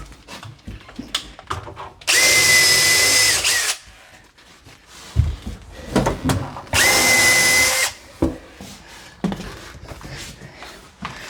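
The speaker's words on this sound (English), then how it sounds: "it's going to start with a pilot hole" A power drill bores a pilot hole into 3/4-inch cabinet wood during a cabinet installation in two loud, steady bursts of a few seconds each, separated by quieter handling clatter and knocks.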